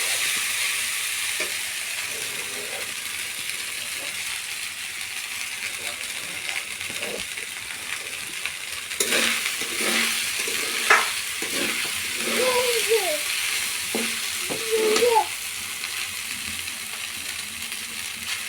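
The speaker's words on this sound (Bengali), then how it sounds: "আর কিছুক্ষণ নাড়াচাড়া করে নামিয়ে নেব।" Leftover rice frying in a pan is stirred with a utensil, giving soft scraping and a steady sizzle, with sharper metallic clinks and scrapes in the second half, close and moderately loud.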